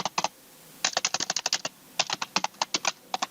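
Quick, light keystrokes on a computer keyboard as a password is entered, heard as short bursts of clicks with small pauses between groups, close and fairly quiet.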